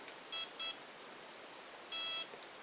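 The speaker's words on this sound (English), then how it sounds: "as soon as I heard the two beeps, I pulled the throttle down to 0" Two quick electronic beeps from a Thunder Bird electronic speed controller during setup, then a pause and one longer beep, clear and close against near silence.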